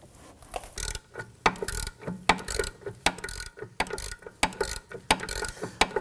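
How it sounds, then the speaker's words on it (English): A ratchet fitted with a 19mm deep socket cranks to break free a rear brake caliper bolt on a 2015-2024 Nissan Murano. It makes loud, close bursts of rapid clicking in uneven strokes with short pauses between them. "Let's go ahead and break this free."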